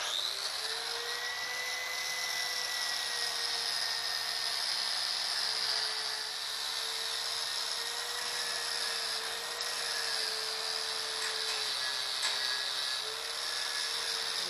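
A handheld power grinder or polisher whines steadily against a metal solar arch, a high-pitched sustained drone with a wavering tone as pressure shifts, continuous and close without talk.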